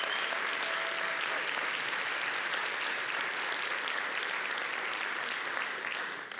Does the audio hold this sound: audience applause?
yes